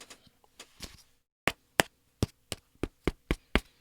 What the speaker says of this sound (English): That's the sound of a plastic tub.